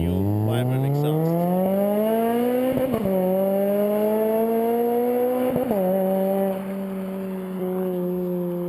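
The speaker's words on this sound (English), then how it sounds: "Brand new vibrant exhaust." A 2011 Honda Civic Si, eighth generation, fitted with a new Vibrant Street Power exhaust, revs up hard and climbs through two gear shifts as it passes close and loud, then settles to a steady drone as it pulls away.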